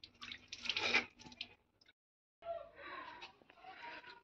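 Water splashes as hands and face are washed at a spring at the shrine of Hazrat Rahman Shah Qadri, close and fairly loud, with a burst of splashing, a short silent pause, then further steady splashing and trickling.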